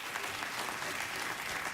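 Studio audience on a late-night talk show breaks into short, lively applause, brisk and fairly close, lasting under two seconds with no talking.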